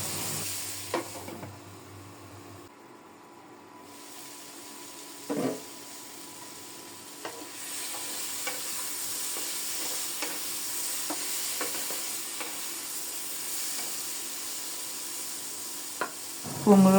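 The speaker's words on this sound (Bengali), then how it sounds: "এবার শুধু ঢেকে ঢেকে নেড়ে চেড়ে কুমড়োটাকে এমনভাবে ভেজে নেব যেন পোড়া দাগ না লাগে" Pumpkin frying in a covered pan, giving a steady close sizzle with a soft hiss, broken by occasional sharp scrapes and clicks of stirring. No voices.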